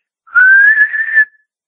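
A person whistles to imitate an airy, breathy whistle once heard in the woods: one sustained, slightly rising tone lasting about a second, close and alone.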